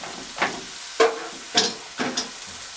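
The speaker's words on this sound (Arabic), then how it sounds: "ان احنا نحط التوابل بتاعتنا مع البصله وهي بتحمر" Onion fries in a pan with salt, pepper, grated nutmeg, cinnamon and seven-spice mix, the sizzling broken by four or five scraping stirs in an uneven rhythm, fairly close.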